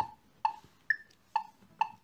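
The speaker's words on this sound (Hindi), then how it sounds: "मैं उम्मीद करता हूँ आपको सुनाई दे रहा है मेट्रोनोम।" A quiet metronome ticks steadily at about 132 beats per minute for a guitar cover, with crisp clicks and one higher-pitched accent click, alone and faint.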